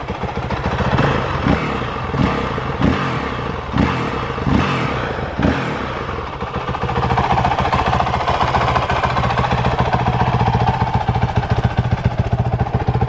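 A 2019 Honda CRF450L dirt bike engine sputters and catches after several cranking bursts, then settles into a steady, fairly quiet idle.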